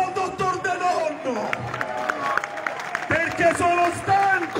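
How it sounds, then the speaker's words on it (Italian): Rally crowd in Piazza del Gesù applauding Dr. De Donno, a broad wash of clapping and cheering mixed with crowd babble, steady and fairly loud throughout. "un applauso al dottor De Donno"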